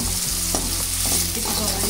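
Cumin seeds and onions hit hot oil for Hyderabad egg curry, a loud, close sizzle with repeated scraping stirs of a spatula against the pan.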